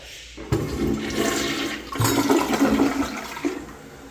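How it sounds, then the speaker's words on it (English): An American Standard toilet in a hotel tower room at Universal's Cabana Bay Beach Resort flushes close by. There is a sudden loud whoosh, then rushing, gurgling water that surges again midway and tapers off. "For all of you guys that go crazy over toilets, I will flush it."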